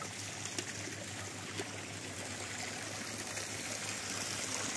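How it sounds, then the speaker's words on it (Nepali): Hot water flowing from a wooden log spout at a temple site in Devghat Dham, a steady soft trickle and splash running evenly at moderate distance with no voices. "काठको मुढोबाट पानी आइरहेको थियो।"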